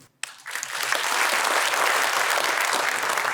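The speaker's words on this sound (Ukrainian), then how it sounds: "віддали свої оплески тим, хто віддав своє життя у цій жорстокій війні" Audience applause honouring artists killed in the war, at the opening of the Odesa film festival; a short silence, then clapping swells quickly into sustained, loud, even applause from a large crowd.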